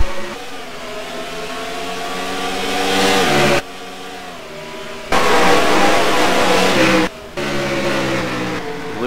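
Stock race cars roar off at the green flag at Iowa in a racing video game, engines revving loudly and steadily with sharp breaks as gears shift, close and dominant.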